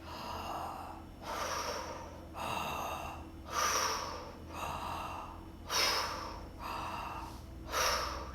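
Slow, deep belly breaths in a guided relaxation exercise, about seven long airy inhales and exhales in a steady rhythm, close and fairly soft over a low steady hum.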